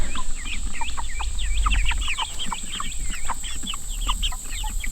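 Meat chickens in a chicken tractor in a homestead orchard cluck and peep continuously as a busy flock, close and fairly loud over a steady low hum, with no talking.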